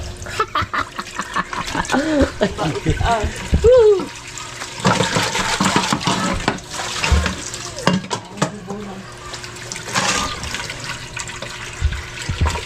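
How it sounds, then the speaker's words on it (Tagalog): Water runs from a tap in bursts, splashing loudly at times, likely filling a pressure cooker, with people talking throughout over the hiss. "Bago mo buksan ang gripo."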